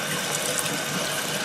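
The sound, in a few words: rinsing tomato seeds in a gauze strainer over sink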